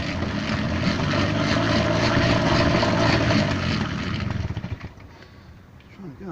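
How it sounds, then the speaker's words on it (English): A Peugeot motorbike engine turns over as someone tries to start it, a loud steady droning churn that holds for about four seconds, then breaks into a few uneven pulses and dies away. "it doesn't always feel like the engine's turning over"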